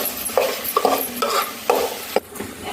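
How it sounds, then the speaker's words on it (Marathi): A spoon scrapes and stirs rice with spices and tomato in a pot for tomato rice, producing irregular clinks and scrapes over a light sizzle, close and clear with no talking. "परत एकदा सर्व जिन्नस एकजीव करून घेऊ"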